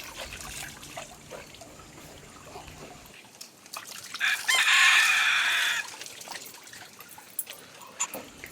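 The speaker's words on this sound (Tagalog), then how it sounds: "yung manok, tiktilaok ng tiktilaok" A rooster crows once at moderate distance, a drawn-out call rising over a background of trickling water and scattered small sounds.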